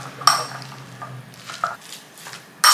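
Utensils scraping and clinking in a bowl as egg is slowly stirred into rice, a few distinct knocks and scrapes over a faint low hum, close and fairly quiet.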